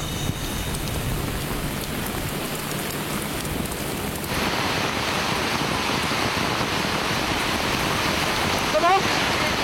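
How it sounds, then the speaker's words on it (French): Steady hiss of rain thickens suddenly about halfway through, becoming a dense, loud downpour patter close by. "Oh, la pluie commence."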